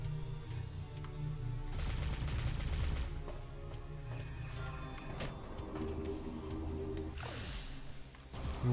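Bursts of rapid synthetic gunfire and blasts crackle over a steady soundtrack in the game Valfaris, with dense volleys in the first half and sweeping effects later.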